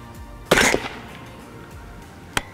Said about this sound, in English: I'm going to go ahead and take a shot and just see where I wind up.